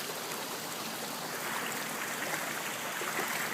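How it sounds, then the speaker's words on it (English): Floodwater pouring down from a canyon during a major flood, a steady broadband rushing roar, close and constant with no voices. "Look at that water. It is just flowing."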